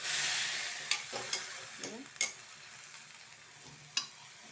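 Tomatoes hit a hot pan and sizzle softly, followed by several sharp scrapes and taps of a spoon stirring against the pan, fairly quiet and close.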